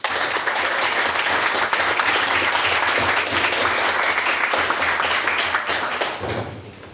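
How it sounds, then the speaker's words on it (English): Audience at a formal debate applauds in a dense, steady burst for about six seconds, tapering off near the end. "And again, another round of applause for me"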